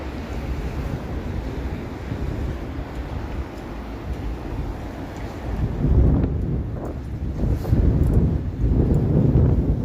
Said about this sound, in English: That's how windy it is out here.